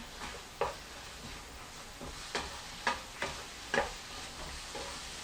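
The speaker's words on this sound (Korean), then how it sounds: "넣어서 빨리 볶아주세요" Quiet pan cooking of kkanpunggi, Korean-Chinese fried chicken stir-fried with sesame oil, with a faint background sizzle and a few sharp clinks of a utensil against the pan, spaced irregularly, with no talking.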